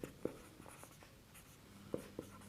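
Chalk or pen on a board during a math lecture, faint and close, with a few scattered short taps and light scratches separated by near silence.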